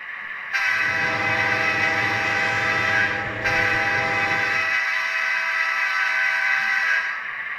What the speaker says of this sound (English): Air horn on function 2.